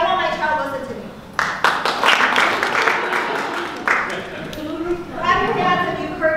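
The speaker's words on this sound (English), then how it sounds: "So clap your hands if you said this." Parents in an elementary school workshop audience clap their hands, a burst of scattered applause rising mid-way and fading, with a voice speaking before and after.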